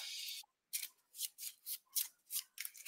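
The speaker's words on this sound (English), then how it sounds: "Then I will shuffle my deck." A deck of game cards is shuffled by hand at a tabletop card game, a quick run of soft riffling bursts at an even rhythm, close and quiet with nobody speaking.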